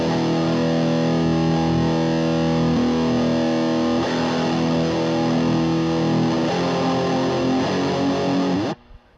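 An electric guitar through a Park's Custom Pedals Ninurta overdrive/distortion pedal holds a thick, heavily distorted chord that rings loud and steady, then cuts off abruptly at the end.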